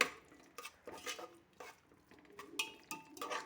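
Chicken masala biryani made with ration rice being stirred in a pressure cooker: a spoon scrapes and clinks against the metal pot in short irregular strokes, close and fairly quiet, with no talk.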